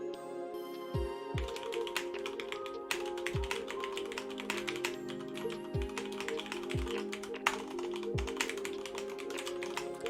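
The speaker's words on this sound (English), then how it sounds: "you can listen to my keyboard" Someone types on a computer keyboard nearby, a quick irregular run of key clicks with a few heavier thumps like the space bar, steady throughout and without speech.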